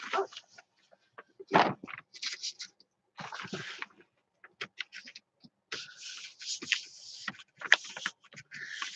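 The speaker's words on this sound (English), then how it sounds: "Sorry if you can hear my dog barking out there." A dog barks repeatedly from another room or just outside, sharp irregular bursts with short yips and whimpers scattered between them, fairly close and loud, with no voices over it.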